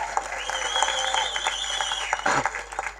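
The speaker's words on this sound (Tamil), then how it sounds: "அவ்வளோ கைத்தட்டல் வருது" An audience at a college event with film figures applauds warmly. Dense, continuous clapping fills the room, with a brief swell near the end and little talk over it.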